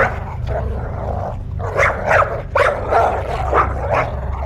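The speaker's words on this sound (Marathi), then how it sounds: "बिल्डिंगजवळचे काही कुत्रे सूरजच्या मागे काहीतरी पाहत जोरजोरात भुंकू लागले" Several dogs bark loudly in quick bursts, some yipping, over a steady low hum; the barking is close and repeated.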